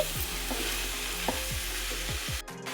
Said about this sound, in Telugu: ఒకసారి ఉల్లికాడల్ని కలిపేసుకుందాం